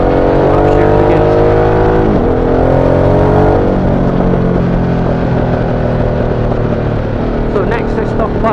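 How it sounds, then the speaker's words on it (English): A Harley-Davidson Sportster S with a 1250cc liquid-cooled V-twin accelerates hard, its loud rising engine note dropping sharply at each clutchless upshift, then settling into a steadier drone with wind noise as the rider speaks over it. "I'm more comfortable to do clutchless shifts to upshift again."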